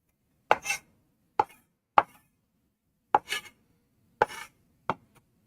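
Knife chopping and mincing raw pork on a board for pan-fried pork buns, with six sharp, separate chops spread out at uneven intervals, each followed by a short scraping rub, close and fairly quiet.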